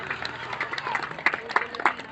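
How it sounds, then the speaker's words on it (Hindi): Audience applause at a Hindi kavi sammelan poetry gathering in Cherki Road, Kalhaura: a burst of clapping with a few sharper peaks, mixed with voices from the crowd and stage. "एक जोरदार ताली"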